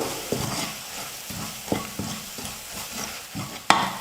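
Onions and masala sizzle softly in a pan over medium flame while a spoon scrapes and stirs in a steady rhythm, with a few sharper clacks, close up and without talk.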